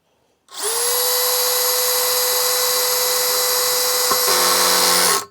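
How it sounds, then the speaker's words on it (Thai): A Dewalt DCD805N 20V cordless brushless drill spins at speed setting 1, a loud steady high whine running for about five seconds alone, the pitch dropping and the tone roughening near the end as it bogs under load. "เจาะเข้าแต่ว่าแรงบิดไม่ไหวนะครับ"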